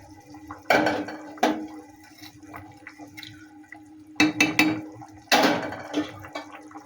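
Koi fish are dropped into a pot of boiling cauliflower, potato and pea curry. Several distinct wet splashes and clinks against the pot stand out over a soft background bubbling.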